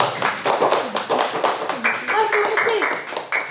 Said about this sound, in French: On applaudit Mathis